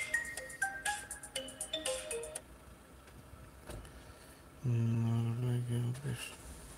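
A mobile phone rings for an incoming call, a melodic series of short electronic tones, followed by a louder, sustained buzzing tone near the end.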